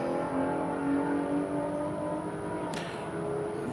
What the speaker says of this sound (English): That sounds like a Hellcat or something.